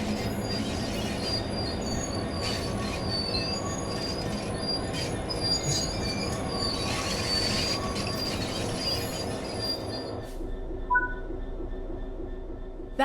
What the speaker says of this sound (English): Just let the train stop now